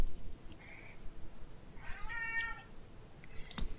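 A domestic cat lets out a few distinct, fairly close meows with short pauses between them, standing alone over a faint background hum with no talking.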